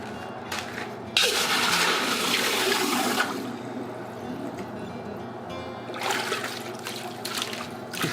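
Water splashes and pours into a hand-forged bronze cauldron, a loud rushing gush that eases to a trickle, then swells again near the end.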